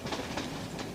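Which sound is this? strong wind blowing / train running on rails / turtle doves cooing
train running on rails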